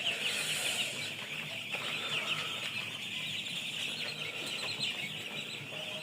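Broiler chickens on a farm cluck and call in a faint, steady chorus from many birds at once, a continuous flock murmur with occasional sharper calls and no talking.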